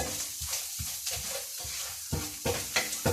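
Garam masala spice mix being stirred into a paneer, spinach and greens curry in a pan, soft repeated scraping strokes over a low sizzle, close and moderately quiet with no talk.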